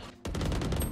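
Gunfire in the Valorant video game: after a brief quiet start, a loud, rapid burst of repeated shots crackles in quick succession for most of the second.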